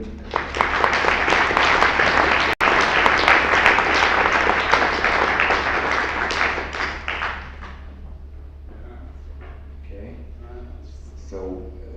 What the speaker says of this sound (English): Huge round of applause for Gerhard André.